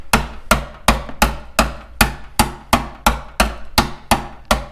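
A metal hammer striking a car's body panel under the fender on a Cadillac SRX, twelve evenly spaced sharp metallic knocks in a steady rhythm, close and clear with nothing else audible.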